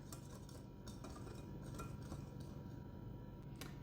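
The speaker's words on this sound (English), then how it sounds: "we are just going to go ahead and whisk this up all together" A whisk stirs dry flour with cinnamon and nutmeg in a bowl, making faint rapid ticks and light clinks of metal against the bowl under a quiet steady hiss.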